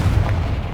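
An explosive spell going off in Hogwarts Legacy, a brief heavy boom with a dense low rumble filling the whole moment, loud and close.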